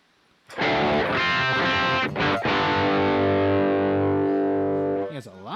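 Heavily distorted electric guitar in drop tuning via a Digitech Drop pedal, amp cranked with presence turned down, plays a loud sustained low chord with a short break, ringing out before a brief scrape at the end.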